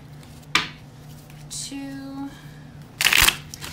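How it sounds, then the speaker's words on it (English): A deck of tarot cards is shuffled by hand in short bursts, a sharp riffle then a louder crisp flurry a moment later, with a voice briefly counting in between. "I'm going to shuffle 2 more times."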